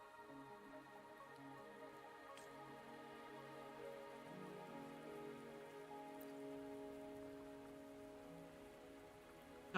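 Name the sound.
rain from the video game Wuthering Waves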